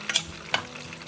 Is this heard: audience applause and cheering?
no